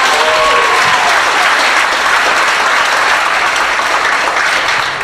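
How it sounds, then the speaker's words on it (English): A comedy club crowd at an improv show in Houston applauds in a dense, loud, sustained wash of clapping that carries steadily and fades slightly at the end. "Big round of applause for Trey the Truth, for DJ Mr. Rogers"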